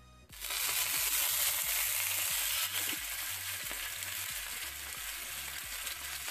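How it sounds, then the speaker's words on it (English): Chicken pieces seared skin side down in a hot pan give a loud, sudden sizzle that swells at once into a steady, close frying hiss, crackling throughout with no voices. "we're going to sear this chicken skin side down"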